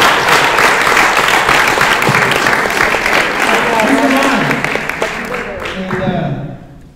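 A group applauds together at a summer-end gathering with kids, steady dense clapping that gradually thins and fades toward the end, with a few voices mixed in.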